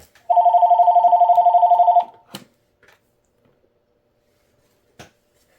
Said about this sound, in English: would the phone stop ringing?